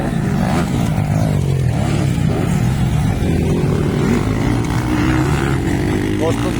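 Motocross motorcycles race in an intermediate class at Libona, with a loud, continuous engine roar and rising revs, while a voice talks excitedly over the noise.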